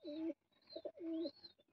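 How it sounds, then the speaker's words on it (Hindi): A pet pigeon coos nearby in a quiet setting, giving two long throaty rolling coos with softer clucking notes between them, with no talking. "ये कबूतर है"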